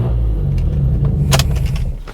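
A 2JZ-swapped 2002 Lexus IS300 idles with a steady low rumble, then a short rev rises and falls around the middle before settling back to a throaty idle, close and loud.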